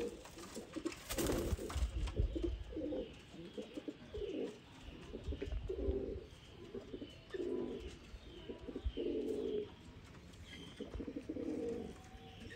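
Pigeons coo in repeated low, throaty bursts, close and fairly clear, with a few brief rustles and flutters around them and no talk.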